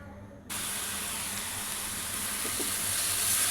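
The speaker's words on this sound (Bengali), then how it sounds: "পুরটা কিন্তু সবসময় নাড়তে হবে, একটু রেখে দিলেই কিন্তু পুরটা পুড়ে যাবে" Coconut filling for palm-fruit pitha frying in a pan over medium-high heat, giving a steady loud hiss that starts abruptly and continues without a break, close by, with faint stirring underneath.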